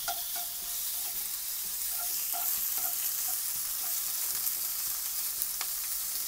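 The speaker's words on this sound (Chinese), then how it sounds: "再落少少油啊，炒咗個豬肉片" Thin hot-pot pork slices stir-fried in a little oil in a wok, a steady close sizzle with occasional scraping stirs and small pops throughout.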